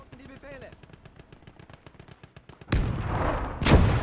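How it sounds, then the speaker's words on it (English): An infantry gun in the World War II strategy game Gates of Hell: Ostfront fires twice, each a loud booming blast, following a stretch of rapid rhythmic machine-gun clatter. "all I've got to do is lie down and let my infantry gun take it out"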